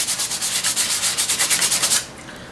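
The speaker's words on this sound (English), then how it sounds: "I haven't found anything that smooths a bowl like a nice kind of coarse piece of sandpaper" Coarse sandpaper rubs back and forth over the carved bowl of a wooden spoon in quick, steady strokes, close and loud for about two seconds before stopping abruptly.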